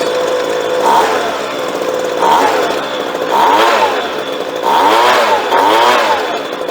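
A two-stroke leaf blower engine revs up and falls back repeatedly, about five rising whines in a rhythmic cycle, loud and close.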